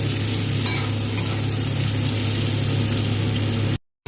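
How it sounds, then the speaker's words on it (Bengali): Potatoes fry in hot oil in a wok with a loud, steady, continuous sizzle close by and no talking, cutting off abruptly at the end. "তেল গরম হয়ে যেতে আমি আলু দিয়ে দিয়েছি। আলু দিয়ে এবার ভালো করে এটাকে ভাজবো।"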